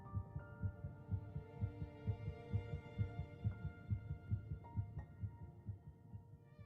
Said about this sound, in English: Olivia's heartbeat can be detected